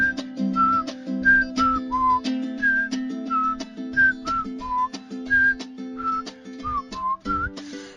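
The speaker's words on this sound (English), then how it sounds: "This is a whistle at the beginning." A melodic whistle opens a hip hop song, a series of short rising and falling phrases repeated over a steady beat, up front in the mix with no talking.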